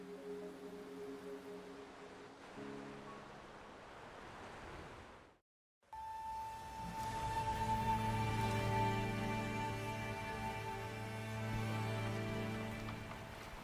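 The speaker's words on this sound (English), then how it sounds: "The rain is subsiding, and the sky will soon clear." Rain falls in the video game Journey to Mt. Firmament as a steady, even hiss. It cuts out briefly midway, then returns with music playing over it.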